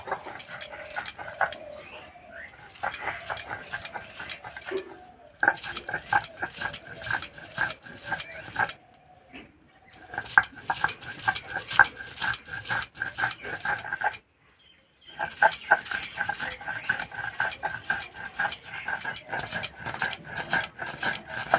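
Garlic, ginger and green chilli are ground together by hand on a grinding stone, producing rhythmic rasping scrapes in quick strokes, broken by a few brief pauses.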